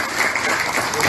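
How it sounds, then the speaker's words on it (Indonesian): A crowd at a political party gathering with artists and puppeteers breaks into a brief burst of lively applause, a dense, loud clatter of many hands lasting only a moment. "Berikan tepuk tangan yang meriah lagi untuk Mas."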